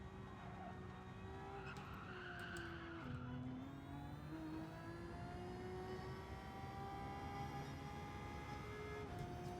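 A Gran Turismo 7 racing car engine with both a turbo and a supercharger drones steadily with a high turbo-like whine, shifting pitch once midway and then holding a sustained, buzzing note throughout.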